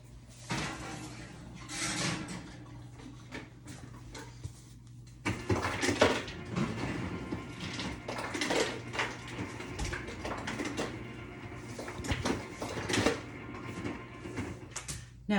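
Pork chops go into an oven amid kitchen clatter, a dull knock followed by rattling pans, tray scrapes and a door bumping shut, close and busy against a low steady hum.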